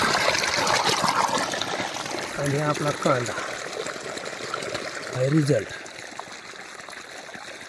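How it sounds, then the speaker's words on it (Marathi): A hose lets a slow, steady stream of water run onto an onion field, a constant soft trickle and gush that continues beneath a man's speech. "आता हे आपण अशा पद्धतीने सोडतोय नळीतून अशी हळूहळू पाण्याची धार पाणी"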